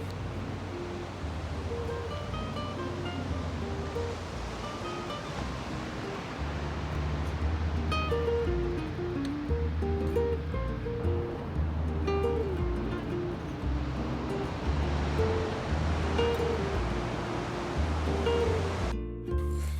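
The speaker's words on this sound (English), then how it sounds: "Within about 30 minutes, we get to this beautiful beach." Waves break steadily on a sandy beach on the Spanish coast, a continuous loud surf wash that swells and recedes with no talk.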